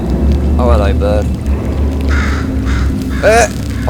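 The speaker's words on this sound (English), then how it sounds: "Oh hello bird." A crow caws in Portal 2, several harsh rasping calls heard close up, scattered among a player's talk over a low ambient hum.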